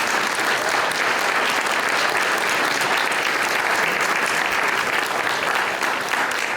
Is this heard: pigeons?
no